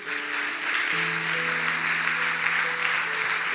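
A church congregation at a Baptist evening service applauds with a steady, fairly loud wash of clapping, while sustained keyboard or organ tones hold underneath.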